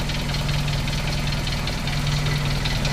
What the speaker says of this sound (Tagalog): Ingay ng balbula. Cold start ko.